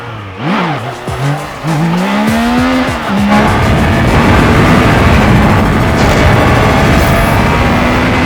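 A Triumph Trident 660cc inline-three motorcycle engine revs up through rising harmonic sweeps, then holds a sustained, raspy roar, with the pitch climbing again toward the end.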